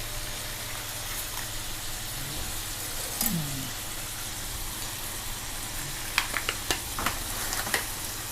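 Marinated pork steak fries in a pan over medium heat, a continuous close sizzle with a few sharp crackles and pops toward the end and a low background hum, with no voices.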